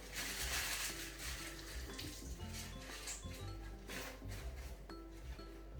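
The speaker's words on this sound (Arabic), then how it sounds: "غادي ندير ليه شويه ديال الماء" Water pours briefly over sliced potatoes in a steaming dish for salmon and vegetables, a short trickle and splash close by over a steady background hum with light clinks.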